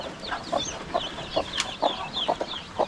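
Newly hatched chicken chicks on a farm make short, repeated peeping calls in a steady rhythm, close and moderately loud, with no talk.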